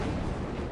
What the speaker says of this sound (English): Lightning strikes nearby.